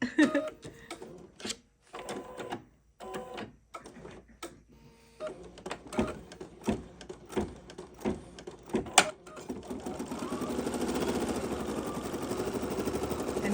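Embroidery sewing machine restitching a section, sharp rapid clicking bursts separated by short pauses, then a steadier mechanical whir running continuously near the end, close and fairly quiet.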